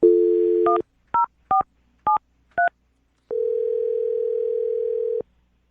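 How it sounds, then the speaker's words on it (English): A telephone dials a number: a steady dial tone, then a quick series of separate keypad beeps, followed by one long continuous tone. The sound is clear and close, with no talking. "I'll dial this phone number right now, okay?"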